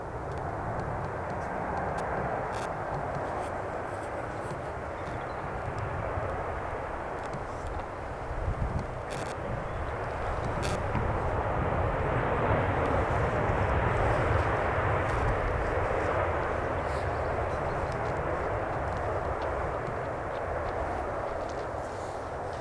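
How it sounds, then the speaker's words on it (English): Boeing 737-800 taking off at Manchester Airport, its landing gear retracting; a steady, broad jet roar fills the whole stretch, swelling slightly toward the middle, with no voices. "And it goes for a smooth take off, landing gear up. Boeing 737-800."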